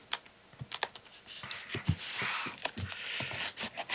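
A blade slices open a large cardboard box close by, with a quick series of sharp scraping and tearing sounds alongside a longer rasping stretch through the cardboard.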